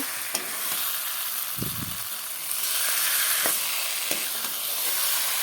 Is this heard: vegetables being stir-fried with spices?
yes